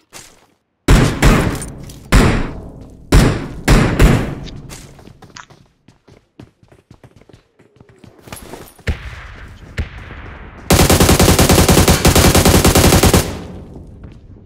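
Automatic weapons blast in Battlegrounds Mobile India, loud close bursts of rapid gunfire separated by quieter gaps with scattered thuds and footsteps, ending in a long continuous spray of shots.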